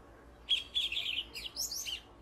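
Mendeni thrush (Geokichla mendeni), a black-and-red thrush endemic to Taliabu and Peleng, Indonesia, gives a series of high, thin whistled chirps and trilled notes, close and clear over faint background noise.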